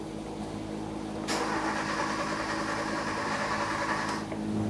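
A 1.6L four-cylinder Kia Soul engine is cranked over by the starter after high-pressure fuel pump work, with a quiet idle first and then a sudden rhythmic whirring crank that runs about three seconds before stopping.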